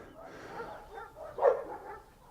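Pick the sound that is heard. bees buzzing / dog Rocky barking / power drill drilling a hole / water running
dog Rocky barking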